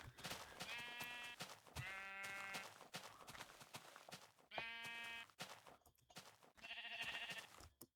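Sheep bleating in the Minecraft video game: four loud, wavering, buzzy bleats, each lasting about a second, spaced across the stretch with short quiet gaps between them and no talking.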